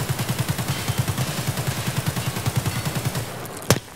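Automatic fire from a rifle in Escape from Tarkov emptying a 30-round magazine, a steady rapid stream of about twenty-five evenly spaced shots over three seconds, followed by a short pause and a single sharp click.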